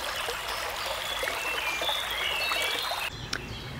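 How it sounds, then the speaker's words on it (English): Running water near a beaver dam, a close, continuous gurgling trickle and stream flow with faint birdsong, steady throughout and shifting slightly near the end. "I had to record the sound of running water first."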